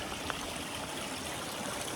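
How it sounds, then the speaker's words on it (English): Creek water rushes and burbles in a steady, dense wash during a trail crossing, filling the whole moment at moderate loudness with no voices. "crossing the creek."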